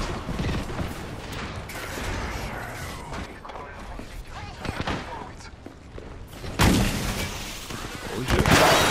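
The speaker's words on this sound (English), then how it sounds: "Opening fire on our prey" Gunfire in a ranked multiplayer video game match, scattered bursts and single cracks of shots near and far amid mechanical clatter and thuds, with the irregular rhythm of a firefight.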